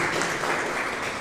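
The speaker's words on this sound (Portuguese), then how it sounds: "vamos dar uma linda salva de palmas ao nosso Deus, bem forte" A standing church congregation claps together, a dense steady wash of applause that fills the whole moment with no pauses or voices over it.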